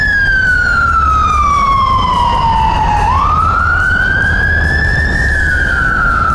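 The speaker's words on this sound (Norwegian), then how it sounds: "Det var ambulansen faktisk." Ambulance siren wailing loud and close, pitch sweeping down then rising again as it passes, over steady traffic rumble, no talking.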